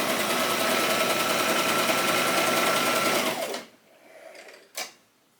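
A sewing machine runs a fast, steady zigzag stitch on stretchy sweater knit fabric for about three and a half seconds, then stops, followed by faint handling noise and one short clunk.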